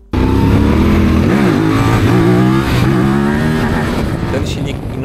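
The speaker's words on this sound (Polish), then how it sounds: "Ten silnik inaczej wstaje, ma moc z dołu, inaczej też brzmi i wkręca się na obroty." A QJ SRT 600SX motorcycle engine revs hard, its note climbing and dipping as the throttle rises and falls, loud and close throughout, with a rider's voice speaking over it.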